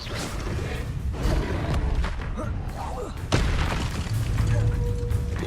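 Magic spell effects in the video game Hogwarts Legacy, a dense run of whooshes and deep booming impacts, including one sharp blast, under continuous game music while a voice calls out spells.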